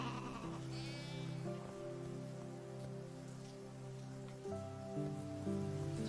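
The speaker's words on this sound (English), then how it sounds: "Might have to wait for the rain to go away." Soft rain falls in the farming game Deiland, a faint, even patter heard under looping game music with sustained tones.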